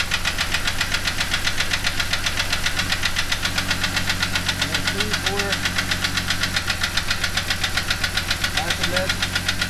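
A Jeep 4.0L straight-six engine runs with one fuel injector unplugged, giving a loud, steady, rapid knocking rattle close up, with brief voices in the background.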